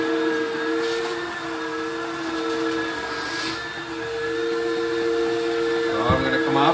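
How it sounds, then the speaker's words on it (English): A new home vacuum cleaner runs steadily indoors with a strong constant whine and hiss, and a brief voice comes in near the end. "Ang galing ng bago naming vacuum."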